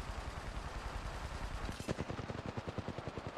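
Rapid automatic gunfire in an Apex Legends match, a steady burst of closely spaced shots that grows sharper and louder partway through, with continuous game noise underneath.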